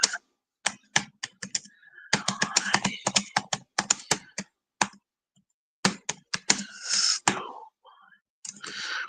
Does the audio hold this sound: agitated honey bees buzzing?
no